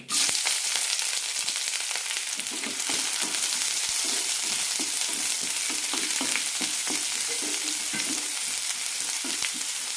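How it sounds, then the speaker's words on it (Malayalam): Chopped shallots and green chillies fry in a tablespoon of oil after mustard seeds, a steady loud sizzle lasting throughout with repeated scraping stirs from a spoon for a bitter gourd stir fry. "കടുക് പൊട്ടിക്കഴിയുമ്പോൾ ചെറിയുള്ളി അരിഞ്ഞതും പച്ചമുളകും ഇടാം"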